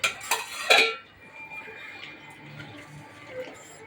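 Pots and pans clatter in a home kitchen as rice is put on to cook, with a few sharp metallic knocks and scrapes up close, followed by quieter faint clinks and a soft background hum.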